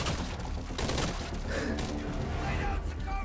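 Gunfire in Metal Gear Solid V: Ground Zeroes rattles on steadily as a dense run of shots and thuds. The shooting is continuous and fairly loud.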